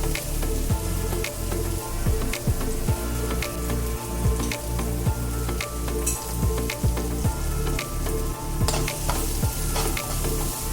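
Long strips of capsicum and chilli peppers sautéing in oil in a pan, a steady close sizzle and crackle with frequent scraping stirs throughout, no talking.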